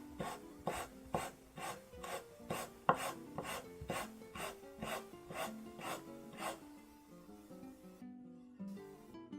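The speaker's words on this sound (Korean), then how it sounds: "햄도 최대한 가늘게 썰어서 일단 면에다가 싸서 먹을 거예요" A knife slices ham into thin strips on a cutting board in a kitchen, giving about fifteen regular, crisp chops close by at a steady pace, softening near the end.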